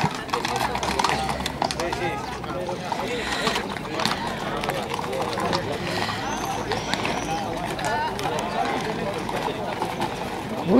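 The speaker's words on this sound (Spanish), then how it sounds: "Uy, los caballos que va a haber aquí." Horses' hooves clip-clop amid a busy crowd at a festive send-off for the Virgen del Henar, the steady clatter running under constant chatter and voices.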